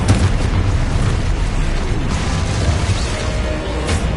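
In Hogwarts Legacy, a Confringo blasting curse explodes with a heavy, roaring boom that rumbles without a break, loud and close, with bursts of crackling debris toward the end.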